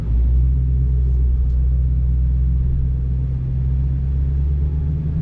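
A Dodge Challenger Hellcat races a Shelby GT500 Mustang, and a deep, heavy engine rumble drones loud and steady close by, with no voices.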